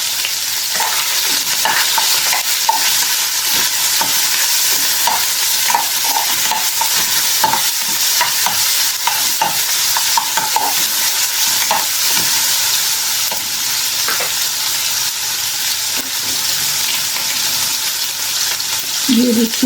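Chicken stir-fries in a hot pan for a Chinese dish, with a constant loud sizzle and repeated scrapes of the spatula stirring, close and steady throughout.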